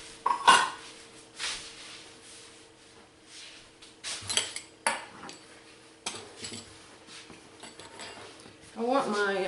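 Fresh pasta sheets for lasagna being cut and trimmed on a kitchen counter, with scattered clinks and knocks of utensils against the surface and a steady kitchen hum, a voice talking partway through.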